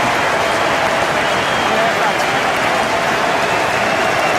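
Crowd applause at the Stoop rugby ground during a Harlequins versus Worcester Premiership match as a player runs out, a dense, steady wash of clapping and cheering throughout, with a commentator talking over it.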